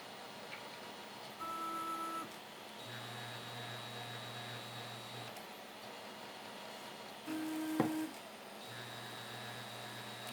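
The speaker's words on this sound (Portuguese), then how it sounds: "Ela está com essa peça aqui vibrando, por isso do barulho." 3D printer running with a vibrating part and a cooling fan: a steady mechanical hum with faint, shifting motor tones that come and go, plus one brief click, at moderate distance.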